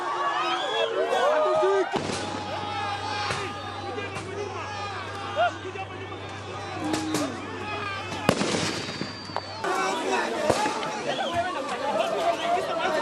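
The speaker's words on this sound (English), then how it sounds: "The police later fired rounds and tear gas to restore order." Police firing rounds and tear gas launchers at a crowd after a funeral: sharp bangs and booms scattered through the clip over a noisy, crowded background with voices chattering throughout.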